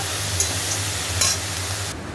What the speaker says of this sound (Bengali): সর্ষে ফোড়ন দিয়ে আগে এটা একটু ভাজা হবে তারপরে বেগুনটা দেবো দিয়ে দিয়েছি বেগুনগুলো এবার বেগুনগুলো ভাজা হোক